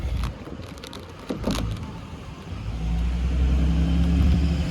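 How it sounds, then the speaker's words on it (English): Trucks passing on an outdoor street during a car roof wrap job: a deep engine rumble builds and grows louder over the final seconds, after some light clattering near the start. "man, these trucks are so annoying, bro. The sound comes so loud in the phone."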